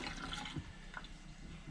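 An RV pump siphons liquid out of a jug while an RV trailer is being winterized, giving a short stretch of gurgling, trickling water with a few soft drips, close and fairly quiet.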